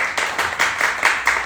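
A small audience at a panel event claps for a panelist, a short burst of distinct, rhythmic hand claps, close and moderately loud, with no talk.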